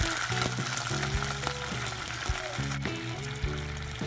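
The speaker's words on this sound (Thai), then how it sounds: "จากนั้นเทน้ำซุปลงไป1ส่วน4ถ้วยตวง" Broth poured into a hot pan with fried garlic for steamed pompano with soy sauce, giving a continuous liquid sizzle and bubbling beneath background music.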